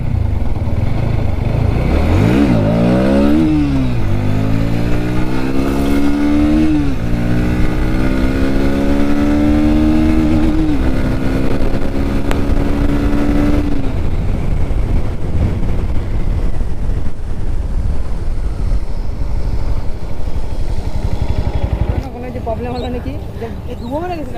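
A Bajaj Pulsar NS 200 motorcycle revs hard through rising and falling engine sweeps while it is lifted into a wheelie. The loud engine note carries on steadily, then drops off near the end.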